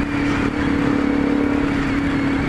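A Yamaha Ténéré 250 motorcycle engine idles low and steady nearby at about 1000 rpm, a constant throbbing hum with a faint mechanical clatter, no voices.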